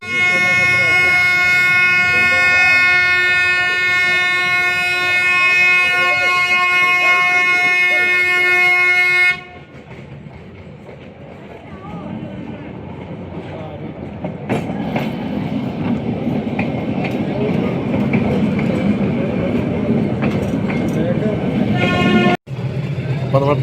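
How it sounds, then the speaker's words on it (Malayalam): Old coal-powered toy train in Ooty, a steady horn tone sounding loudly before giving way to rumbling, clattering movement as the train starts rolling, with a sharp clank near the end and voices talking over it. "അപ്പോൾ നമ്മൾ ട്രെയിൻ നീങ്ങി തുടങ്ങി."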